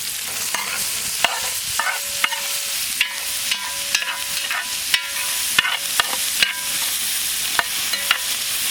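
Chopped capsicum sizzles in a pan for paneer fried rice, a steady frying hiss broken by regular sharp clicks of a utensil stirring against the pan, close and without speech.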